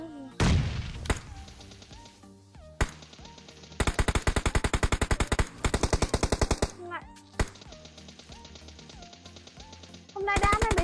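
Gunfire from PUBG Mobile crackles in loud, rapid automatic bursts, with two long rattling strings of shots in the middle set between single sharp reports and short pauses, all close and punchy.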